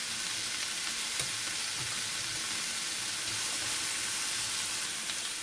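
Sliced radish frying in a pan with salt and turmeric, a steady soft sizzle and hiss with occasional scraping stirs, close and fairly quiet, no talk.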